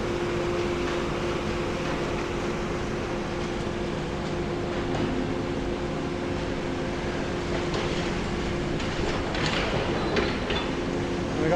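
Heavy demolition machinery works across the old Royal Liverpool University Hospital site, clearing ground as a continuous broadband rumble with a steady hum and scattered clanks and scrapes at moderate distance.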